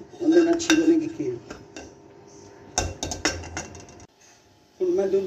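A metal spoon clinks and scrapes against a pot while stirring sugar into fresh milk for sweet potato kheer, with bursts of rattling clatter separated by quieter pauses, close and fairly loud.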